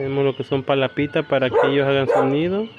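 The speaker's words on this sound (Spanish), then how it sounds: "Una disculpa por el ruido de los perros" Dogs barking and yipping in quick repeated bursts close by, heard at an outdoor aviary where Agapornis lovebird nest boxes are being set up, with someone talking over the barks throughout.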